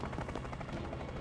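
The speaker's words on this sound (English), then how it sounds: "Helicopters dropping people." Helicopter rotor in the video game Tactical Breach Wizards, a steady low thumping drone that holds evenly through the short moment.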